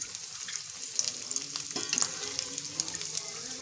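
Bread kababs fry in very hot oil with a loud, continuous sizzle full of dense, close crackles and pops, with occasional brief stirring sounds and no voices.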